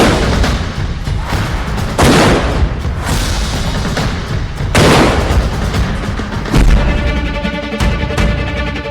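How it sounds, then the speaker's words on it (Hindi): Indian Army field guns fire heavy rounds in Delhi, a series of loud booming blasts a couple of seconds apart over a constant rumbling outdoor din, with no talk. "और ये देखिए इस वक्त राउंड और ये है इंडियन फील्ड गन की ताकत।"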